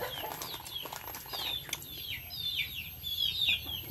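Chickens cluck and chirp nearby in a quick, uneven series of short calls layered over a low background murmur, with no clear speech.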